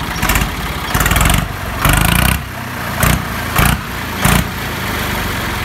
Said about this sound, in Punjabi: ਮਿੱਤਰੋ ਸਲੰਸਰ ਆਪਾਂ ਲਾ ਲਿਆ ਅਤੇ ਇਹਦੀ ਆਵਾਜ਼ ਸੁਣਾਉਂਦੇ ਸਾਨੂੰ ਸੁਣਾਓ ਵੀਰੇ ਚਲਾਓ